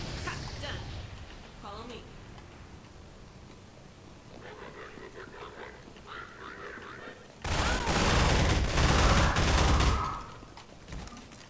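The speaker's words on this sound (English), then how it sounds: "If you got shot like that in real life, Alex, you'd be saying more than ow." Gunfire bursts in the Half-Life 2 video game, a loud dense volley of rapid shots near the end after quieter game ambience, with voices talking earlier in the scene.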